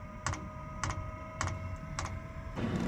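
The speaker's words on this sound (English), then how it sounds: "So you can hear the fuel pump." Steady ticking of the fuel pump on a Webasto Air Top 2000 STC gasoline heater, five evenly spaced clicks about every half second over a faint constant hum, close and clear.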